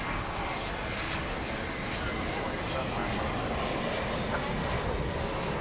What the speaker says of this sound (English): From Omaha comes American 2229, an Airbus A319.